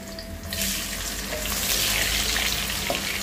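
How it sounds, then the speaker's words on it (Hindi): A handful of onions drops into hot oil for veg biryani and bursts into a loud, dense, continuous sizzle that holds steady close by, with no voices over it. "प्याज तल लेंगे प्याज अच्छा पूरी गोल्डन होना"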